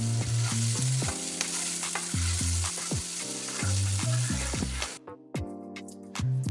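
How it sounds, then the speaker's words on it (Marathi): Chopped onion fries in oil and butter with cumin, giving a loud, dense sizzle with spoon clatter and stirring scrapes. Steady low tones run underneath. The sizzle stops abruptly near the end, leaving sparse knocks. "आता आपण या कांद्याला छान असा गुलाबी रंग येईपर्यंत तळून घेणार आहोत"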